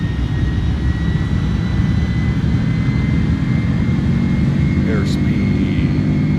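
Airbus A310 jet engines at takeoff power in Microsoft Flight Simulator, a loud, continuous low roar with a steady whine layered on top, holding even throughout with a brief tonal blip near the end.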